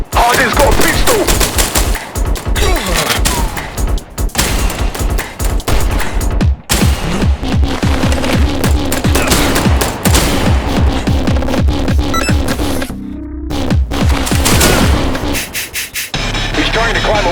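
Rapid video game gunfire, including pistol shots, rattles in dense loud bursts almost without pause, with a brief near-silent gap late on before the shooting resumes.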